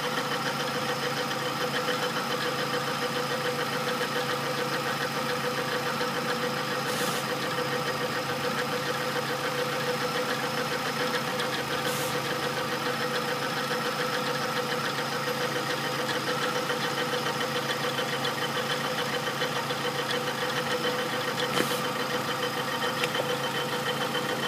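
A 1996 Nissan Altima with the 2.4 engine idles steadily and evenly at close range, a constant mid-pitched hum with no one speaking.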